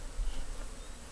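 A steady, close insect buzz of many honeybee nurse bees in a nuc box humming together, continuous and even throughout.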